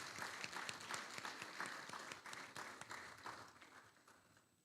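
An audience at a school athletics championship launch gives a round of applause for sponsors, a steady patter of many hands clapping that fades toward the end, heard at a distance and fairly faint.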